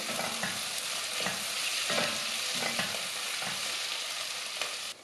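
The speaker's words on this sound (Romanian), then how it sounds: "Și mai lăsăm 2-3 minute, amestecând din când în când" Potato and soy stew stirred in a pot after garlic and black pepper go in, with a steady low sizzle and a few soft, evenly spaced scrapes of the spoon against the pot.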